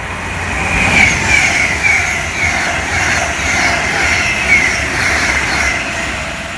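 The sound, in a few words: Virgin train approaching Long Port towards Stoke-on-Trent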